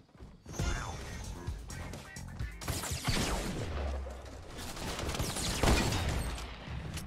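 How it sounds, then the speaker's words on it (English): Hunting rifle gunshots in Fortnite, sharp cracking shots mixed with clattering mechanical sounds and crashes in a busy, loud game fight. "I headshot both of them with the hunting rifle"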